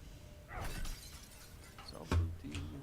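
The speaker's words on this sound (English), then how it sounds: "Smashing the brain jars" Brain jars shatter in Baldur's Gate 3, a crisp glass smash ringing out near 2.1 seconds after a softer earlier crack, set against low game ambience with no speech.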